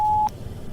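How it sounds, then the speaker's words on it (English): Answering machine beep: a single clean, steady electronic tone lasting about a quarter second, loud and alone, then cutting to quiet room noise. "Please leave your message after the beep."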